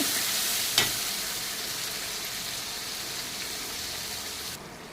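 Spice paste sizzles steadily in a pan over low heat, a close and even frying hiss with one brief clink near the start.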